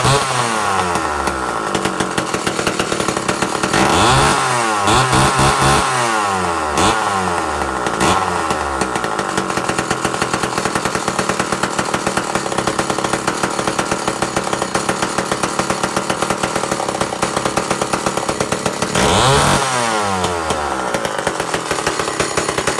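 A 1980 Lombard AP42 chainsaw on a test run, its two-stroke engine buzzing loud and continuous, with several throttle blips revving up and falling back before idling down, no talking.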